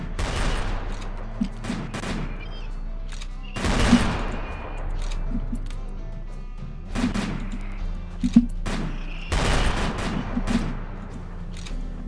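Bursts of automatic gunfire in a video game battle against skeletons, several loud rapid volleys spaced a few seconds apart with quieter shots between, while a player talks over them.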